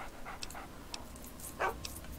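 Dogmeat, the dog companion in Fallout 3, pants softly in short breathy bursts along with faint clicks, quiet and close with no voices.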